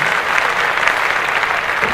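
A crowd applauding loudly and steadily, dense clapping filling the whole moment with a few faint voices mixed in.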